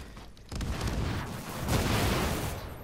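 A grenade goes off in a shooter video game, a muffled booming blast that rises after a quiet start and then swells again into a sustained rumble, fairly faint in the mix with no talk.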